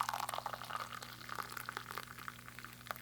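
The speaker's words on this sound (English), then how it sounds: "We're gonna do some hot water over it." Hot water poured over loose tea in a cup, a light splashing, bubbling trickle that runs steadily throughout over a low constant hum.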